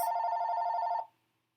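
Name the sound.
phone ringing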